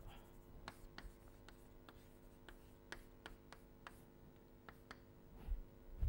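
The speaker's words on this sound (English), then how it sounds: "I will write a whole bunch of things." Pen strokes on paper scratch and tick in a steady series of short marks, close and fairly quiet, with no talking.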